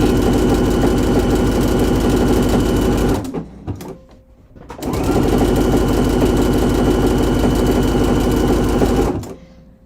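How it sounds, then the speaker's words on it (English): A sewing machine stitches up a garment sleeve in two long, loud, steady runs of rapid mechanical whirring, separated by a brief pause with a few soft clicks. "I'm just stitching up that other sleeve."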